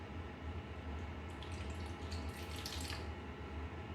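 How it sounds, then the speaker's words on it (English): About 100 ml of water is poured over vegetables for blanching, a faint, brief splashing trickle rising over a quiet kitchen background for a couple of seconds. "And then we'll add about 100 ml of water."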